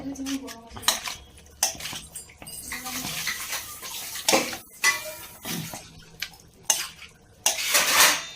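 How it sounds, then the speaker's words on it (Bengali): A metal spoon clatters and scrapes in a pot while fried onion, garlic, ginger and green chilli are mixed for a potato and egg pickle, with irregular loud knocks and clinks and brief quiet gaps. "পেঁয়াজ, রসুন, আদা, কাঁচা লঙ্কা এগুলো ফ্রাই করে নিয়ে এর সঙ্গে মিক্স করা হচ্ছে"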